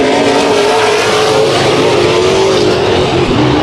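Race cars roaring around the track during a heat race, a dense, loud and unbroken wall of engine noise with overlapping revs from several cars close by, no voices heard.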